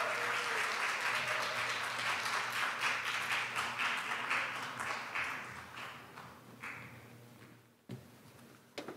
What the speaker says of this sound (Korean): 박수로 한번 환영해 보도록 하겠습니다